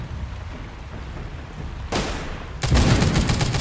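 Gunfire near a rocket boss in the mobile game The Walking Zombie 2, a low rumbling background that breaks into a loud burst of shots, then a heavier continuous volley of rapid fire.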